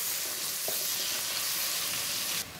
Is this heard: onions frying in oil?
yes